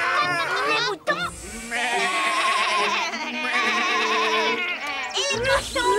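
Cartoon sheep bleat in quavering, wavering cries over a lively musical background, with a brief pause near the start and another cry at the end.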